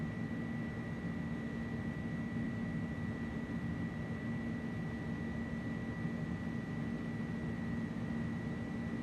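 Airbus airliner on its takeoff roll in Microsoft Flight Simulator 2024: a steady, loud cockpit drone of engine roar and rushing noise with a constant high whine, unbroken throughout.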